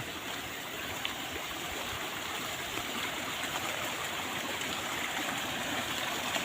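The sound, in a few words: small spring-fed stream flowing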